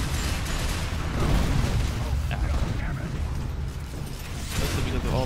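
Rocket launcher explosions in Unreal Tournament III, a dense, continuous rumble of blasts and booms on a small map, loud and busy throughout, with talking mixed in.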